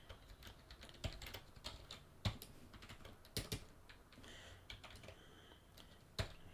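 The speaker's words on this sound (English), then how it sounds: "just got a new keyboard, I'm getting used to it." Fingers type on a new computer keyboard while coding, irregular clusters of quiet, close key clicks with occasional sharper strokes and short pauses, alone without talk.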